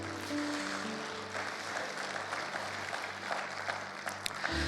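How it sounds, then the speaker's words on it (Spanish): A dense, steady wash of clapping from a large church congregation, sustained for several seconds with a faint tone underneath. "dé ese aplauso al Señor"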